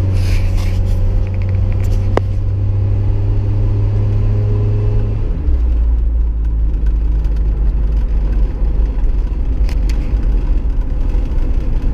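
A Jeep Wrangler SE engine rumbling steadily while driving, with a low growl that shifts down in pitch partway through as the ride continues, close and constant with no voices.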